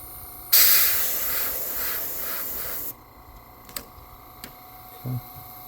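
An airbrush spraying paint through a stencil onto a shad fishing lure gives a loud, steady hiss for about two seconds, then stops, leaving quiet background with a few faint clicks and taps.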